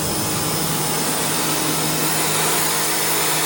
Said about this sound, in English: I'm going to see if the pressure washer takes any of it off